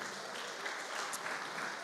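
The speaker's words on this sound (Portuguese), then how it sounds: "Quem pode aplaudir ao Senhor?" A church congregation applauds during a Portuguese-language sermon, a steady, dense wash of clapping that holds evenly from start to finish without pauses.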